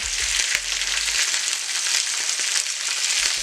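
Italian sausages searing in a steel pan as they are turned over, a steady close sizzle with a few low knocks and thumps of the meat being flipped at the start and near the end.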